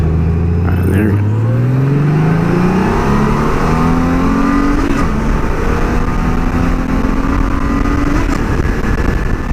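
An engine revs up hard in sport mode, its pitch climbing in several rising sweeps as gears change, loud and close, with a person talking over the steady roar.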